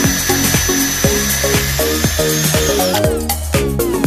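A cordless drill spins and bites into wood, with a high whining motor and repeated strained pulses as the bit pushes through, loud and close with no speech.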